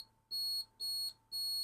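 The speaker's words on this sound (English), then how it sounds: "You can hear that beeping away, or you can see on the meter it's just dead short circuit" Multimeter continuity tester beeping on a dead short circuit in a wire: three clear, shrill electronic beeps, each about a quarter second long, with short gaps between them, close up.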